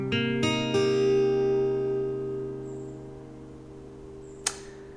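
A minor 7 chord on an acoustic guitar with a capo, strummed as a few quick downstrokes that then ring out and slowly decay, with a faint click near the end.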